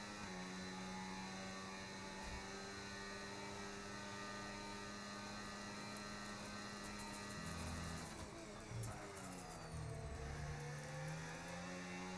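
Race cars in a sim racing league event at the Spanish round, engines droning steadily with shifting pitch as they pass, a continuous mechanical whine without talk.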